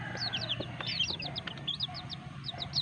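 Naked-necked cobra-style chicks cheep in a rapid series of high, short chirps, fairly close, over a low rumbling background with a few faint clucks.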